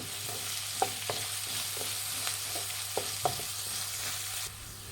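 Vegetables for veg fried rice sizzle steadily in a hot pan, broken by several sharp scrapes and knocks of a spatula stirring them, close and alone without talk.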